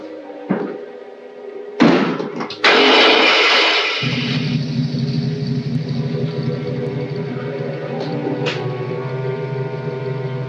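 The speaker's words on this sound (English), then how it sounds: "Start the motor." A motor cranks with a clatter and slam-like bursts, then settles into a steady low rumbling idle that runs on for several seconds, fairly close and loud.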